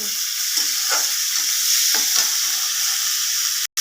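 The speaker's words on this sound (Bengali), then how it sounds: "এই পেঁয়াজটা দিয়ে দিলাম, আলু আর বিনসও দিয়ে দিয়েছি পেঁয়াজের সঙ্গে।" Onion, potato and beans frying together in a pan, a loud continuous sizzle close by with soft stirring scrapes, broken by a brief dropout near the end.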